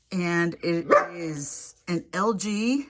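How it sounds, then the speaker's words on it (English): A pet dog barks in the background of a home laundry area while a person speaks close by, the short barks brief and partly masked under the talk. "So that's my dog in the background"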